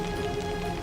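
Steady rain falling and pattering on surfaces, a dense continuous hiss with soft drop textures, close and even throughout the brief moment with no voices.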